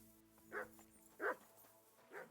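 A dog in the medieval role-playing game Kingdom Come: Deliverance 2 gives three separate woofs spaced about a second apart, moderately close over a quiet ambient background.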